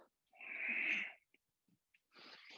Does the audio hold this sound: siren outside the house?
no